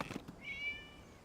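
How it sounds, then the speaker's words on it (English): A cat in Genshin Impact gives a single short, faint meow, rising then trailing off, with quiet game ambience around it. "It was just a cat."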